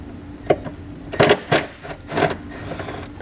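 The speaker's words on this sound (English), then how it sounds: "I'm going to be using a 10mm socket to remove that nut." A ratchet with a 10mm socket loosening a nut on a towed vehicle: a few sharp, close clicking bursts in quick succession, loud against a quiet background.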